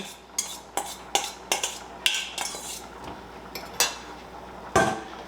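Drained ground meat for a quick goulash goes back into the pan: a series of sharp metallic clanks and scrapes of a utensil against cookware, close up, spaced irregularly with no talking.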